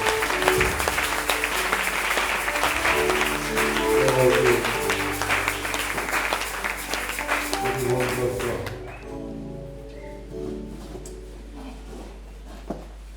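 A church congregation claps loudly and steadily together with music, then the applause fades out toward the end, leaving a low sustained hum.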